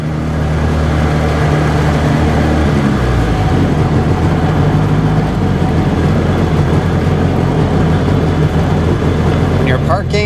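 A Sea-Doo Sportster jet boat engine idles steadily while the boat is being parked, shifted in and out of gear without throttle, giving a constant close low rumble with a slight change in tone partway through.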